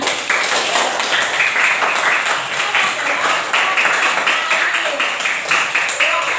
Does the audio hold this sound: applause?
yes